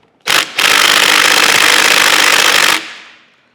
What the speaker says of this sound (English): Try this with my impact driver.